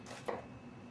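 A knife chops finely through half an onion on a cutting board: a couple of crisp, close taps within a second, with no talking.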